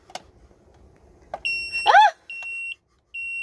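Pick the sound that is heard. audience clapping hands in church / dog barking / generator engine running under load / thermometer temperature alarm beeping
thermometer temperature alarm beeping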